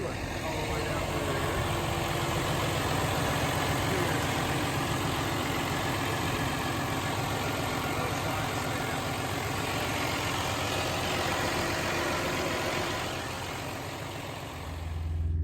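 A truck's diesel engine idles in a steady, low rumble with a slight vibration, close and continuous throughout, easing a little near the end.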